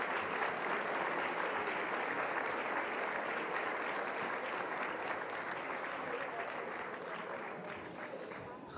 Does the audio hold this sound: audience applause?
yes